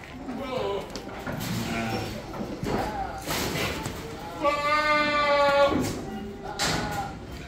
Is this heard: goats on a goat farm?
yes